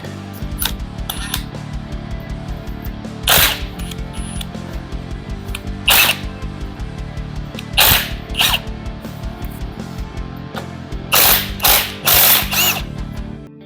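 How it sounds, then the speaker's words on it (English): An impact wrench removes bolts during the teardown of a Toyota 5K engine from a KE20 Corolla. It fires in several short, loud rattling bursts, some back to back, over a low steady background hum in a workshop. "Quite often I find the impact destroys less bolts than you're trying to get these off any other way"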